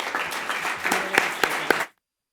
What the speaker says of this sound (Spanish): despedimos al ponente con un aplauso